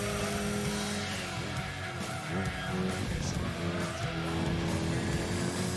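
A Mitsubishi Evo VI RS racing in Gran Turismo 2, its engine holding a steady high-revving drone with shifting pitch as it accelerates, and a faint tire squeal underneath.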